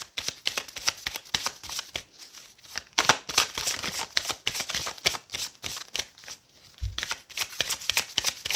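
Tarot cards shuffled and handled in a steady run of crisp riffling and flicking, close and fairly loud, with brief pauses between bursts and no talking.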